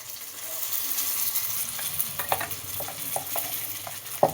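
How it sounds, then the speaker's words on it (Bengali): Grated carrot sizzles steadily in hot ghee while a spatula scrapes and taps the pan in scattered, sharper clicks, close and moderately loud, with a louder knock at the end. "ঘিয়ের ওপর গাজরটাকে দিচ্ছি। এবার গাজরটাকে খানিকক্ষণ নেড়ে নেব।"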